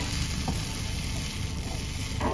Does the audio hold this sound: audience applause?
no